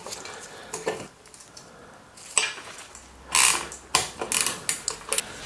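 Metallic clicks, scrapes and small clanks come from a brake being refitted on a LIV road bike, with irregular close-up taps of parts and tools and short bursts of rattling, no speech.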